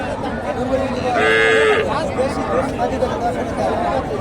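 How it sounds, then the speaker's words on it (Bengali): A cow lowing at a cattle market in Bogura, one clear drawn-out moo near the middle amid people chattering nearby. "দেশি গাভী শাহিওয়াল বকনা বাচ্চা"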